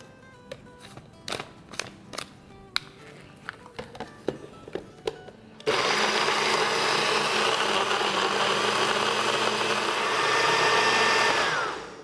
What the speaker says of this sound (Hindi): और अब इसे हम ब्लेंड करेंगे।